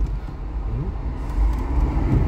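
Car engine rising gently as light throttle is applied during a city driving lesson, a steady close hum that swells toward the end, with road and traffic noise around it.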